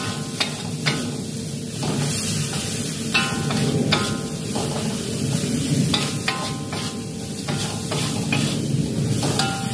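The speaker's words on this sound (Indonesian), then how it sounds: "Tumis dia sehingga naik bau dahulu ya" Turmeric powder sautés in a pan for a spicy catfish soup, a steady close sizzle and hiss with occasional scraping stirs throughout.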